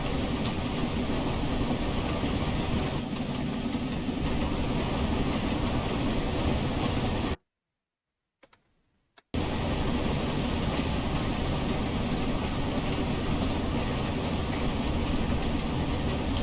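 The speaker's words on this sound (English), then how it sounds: "Train coming from the opposite direction." A train passes from the opposite direction in the Train Simulator game, heard from the cab of a steam locomotive as a loud, steady rushing roar that cuts out briefly to silence midway, then resumes.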